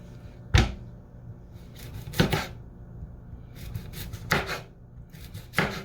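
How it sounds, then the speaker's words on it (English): A knife slices squash into small pieces on a board, giving four or five separate sharp chopping knocks spaced a second or two apart, close and fairly loud with quiet gaps between. "And then I'm just going to cut these into little slices."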